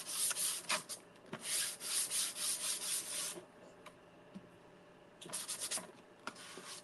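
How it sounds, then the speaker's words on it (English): Light sanding with fine 400-grit sandpaper: steady back-and-forth rubbing strokes in a quick rhythm for over three seconds, a pause with faint scratches, then another burst of strokes, close and soft. "I think I'm just going to sand it very lightly."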